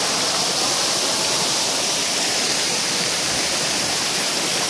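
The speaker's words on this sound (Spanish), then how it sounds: "una cascada muy bella, una cascada muy hermosa" A steady, roaring rush of falling water from the Cascada Alemana waterfall in Villacarmelo, Cali, loud and unbroken for the whole stretch, with no voices.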